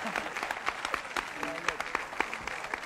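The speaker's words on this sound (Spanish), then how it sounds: "Un aplauso para él también." Applause from a studio audience on a Spanish-language television variety show, a dense steady clapping that lasts the whole moment, with a voice speaking over it.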